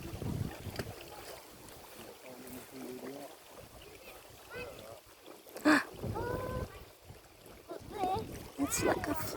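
Wind blowing outdoors on a family day out in nature, gusting and buffeting the microphone in low rumbles, with people talking throughout.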